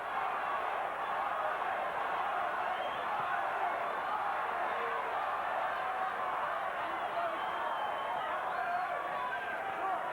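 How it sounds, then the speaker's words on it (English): Boxing crowd at a live fight, Michael Nunn versus Marlon Starling, chanting the fighters' names; a dense, steady roar of many voices fills the whole stretch with no pauses, the individual chants blurred into a continuous arena din. "There's chanting in the crowd. It sounds to me as though some people are chanting Michael and some are chanting Starling."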